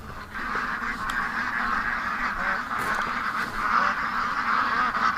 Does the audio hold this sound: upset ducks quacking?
yes